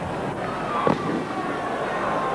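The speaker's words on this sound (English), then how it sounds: "we have some fireworks outside the ground" Fireworks go off outside a stadium during a 1988 VFL football match. One muffled distant pop stands out above a constant wash of crowd and broadcast noise.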